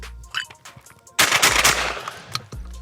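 A Retay Masai Mara semi-automatic 12-gauge shotgun with a 3.5-inch chamber fires a quick string of loud, close blasts in rapid succession. The shots blur into a booming roar that fades, and a few smaller knocks come before and after.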